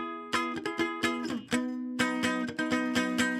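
Electric guitar with its top three strings muted by hand, picked as a quick run of sharp, close notes with brief pauses between, heard alone with no voices.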